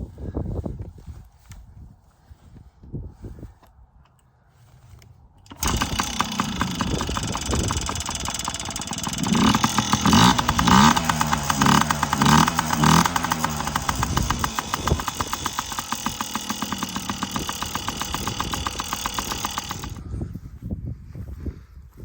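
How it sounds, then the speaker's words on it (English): A little 50cc Yamaha two-stroke motorcycle has a few quiet tries before it catches, then runs close and loud with a rattly, buzzing idle and brief revs for about fifteen seconds before cutting off. "So here it is, little 50cc Yamaha 2-stroke motorcycle."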